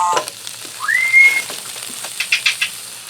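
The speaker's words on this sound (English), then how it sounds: "I'm going to continue frying this over medium heat and stirring it" Thin-sliced sandwich steak (Steak-umms) frying in a pan over medium heat for Philly cheesesteak, a steady soft sizzle with scraping stir strokes and a brief whistling tone rising midway.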